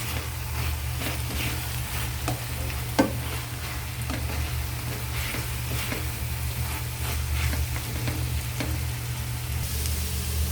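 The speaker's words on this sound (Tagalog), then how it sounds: "haluin ang kabila. Sabay-sabay silang maluluto" Vegetables frying in olive oil with salt, chili and garlic are stirred in a pan, giving a steady close sizzle over a low humming drone, with an occasional sharp utensil click.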